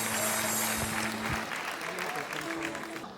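Audience applause fills the room at a live Kinyarwanda comedy show, a dense steady clatter of clapping that fades slightly toward the end, with a voice talking over it.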